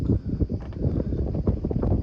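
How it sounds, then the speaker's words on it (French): Wind gusting across a microphone at anchor deep in the bay of Poros, Greece, a low rumbling buffet with irregular surges and faint rattles, fairly close and steady for a couple of seconds. "voilà le vent qu'on a."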